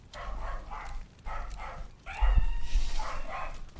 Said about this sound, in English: Whatever you're barking at, you've protected me.